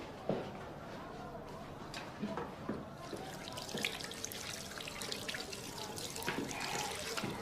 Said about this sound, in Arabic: ممكن نخش نغسل ايدي؟